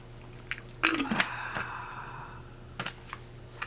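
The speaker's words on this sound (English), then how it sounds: "I just need to take a quick swig real quick" A quick swig of tap water taken indoors, with a few short wet gulps and soft liquid sounds near the mic, then quiet clicks and small handling noises.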